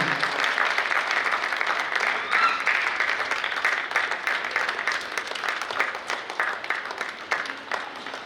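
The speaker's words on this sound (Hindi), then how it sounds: "जोरदार तालियां इन सभी कलाकारों के लिए" Sustained applause from an audience honouring the cast of a dance-drama at a cultural festival in Bhopal, steady dense clapping that holds at an even level for the whole stretch.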